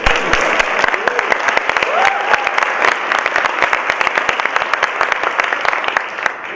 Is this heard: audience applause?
yes